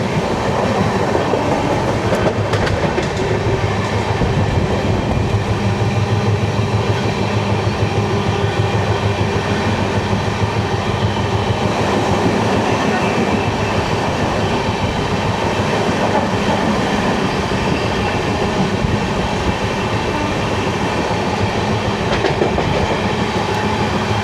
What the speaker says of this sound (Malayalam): Kadakkavoor station run through.